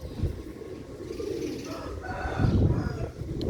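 Sialkoti pigeons, including young birds, coo and call in a loft, with soft low throaty cooing rising and falling close by, and other birds faintly in the background.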